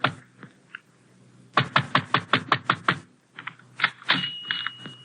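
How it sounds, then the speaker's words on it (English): Someone pounds on the door of a darkened tobacco shop at the end of a narrow waterfront street: a couple of knocks, then a quick run of about eight sharp, loud raps, then a few more. "but I pound on the door."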